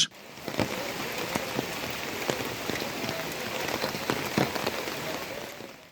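Heavy, continuous rain pours down on a waterlogged town in Jashore, a dense steady hiss of drops drumming on surfaces with scattered louder splats throughout, close and unbroken.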